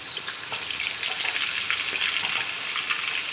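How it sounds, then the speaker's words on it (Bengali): Fish heads fry in hot oil, a loud, dense, even sizzle and crackle close up, continuous throughout with no one speaking. "তো প্রথমে মাছের মাথাগুলো ভাজা করবো।"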